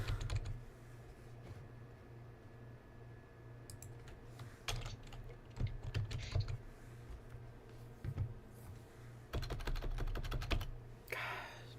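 Computer keyboard typing comes in scattered bursts of quick clicks, close but fairly quiet over a steady low hum, with a longer flurry of keystrokes near the end.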